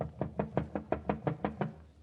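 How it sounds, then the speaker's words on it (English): Eight steady knocks rap on a battered apartment door at an even, quick rhythm, close and clear with no voices over them. "Somebody is knocking."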